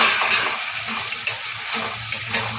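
Masala is stirred together with fried okra in a pan, a close, steady sizzle overlaid by soft scraping strokes and a few light clinks of the spoon, with no talking.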